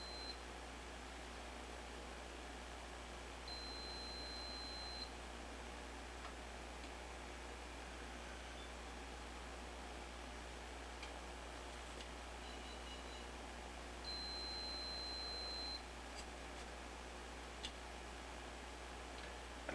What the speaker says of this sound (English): you take your meter and you touch it to the yellow, and the yellow on this end, and you should get an audible beep